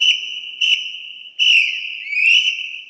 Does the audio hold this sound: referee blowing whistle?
yes